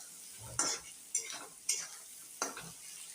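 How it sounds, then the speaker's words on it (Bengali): Spices, including ground cumin, sizzle in a pan for lotia fish curry. Four rhythmic scraping stirs of a spatula cut through the constant frying hiss, close and fairly quiet, with no talking. "এবার এটা দিয়ে ভালো করে একটু নাড়াবো যাতে মশলাটা পুরোটা মিশে যায় ভালো করে।"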